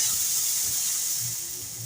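Steam hisses steadily as water and oil are added to mutton malai seekh kababs cooking in a pan, a bright, continuous spray-like noise that slowly fades a little over the couple of seconds.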